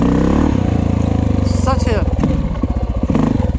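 A warmed-up dirt bike engine, a Honda XR400R or Suzuki DR350, runs with a loud, fast, steady putter after a kick start, with some clattering and scraping mixed in.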